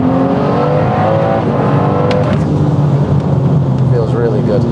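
A 2024 BMW M4 with S58 engine, midpipes, downpipes and factory muffler pulls hard in first gear with a loud, rising raspy growl. Near the end the revs drop briefly before building again, and a voice speaks over it.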